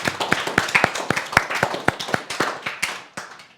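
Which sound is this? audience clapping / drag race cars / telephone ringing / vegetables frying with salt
audience clapping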